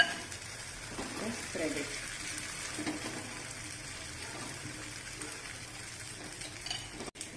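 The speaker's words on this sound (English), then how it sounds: "So now the pan is nice and heated. The oil is heated very well. So I'm going to add in the mixture." Egg mixture for an omelette hitting hot oil in a heated pan, giving a steady sizzle with some stirring and utensil clatter while a person talks briefly over it.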